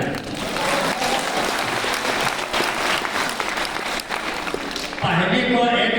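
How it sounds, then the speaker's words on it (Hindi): A Hindi kavi sammelan poetry-reading audience bursts into loud, dense clapping that holds steady for several seconds, then a voice cuts in at the end as the applause gives way. "जरा 4-5 लोग तालियां उधर से बजा।"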